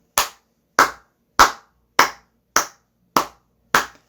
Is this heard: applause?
yes